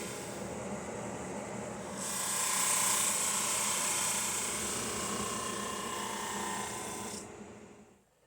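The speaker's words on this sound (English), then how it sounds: "This little sander is absolutely amazing." A small power sander whirs with a high, steady buzz, starting after a couple of seconds, running for about five seconds, then winding down.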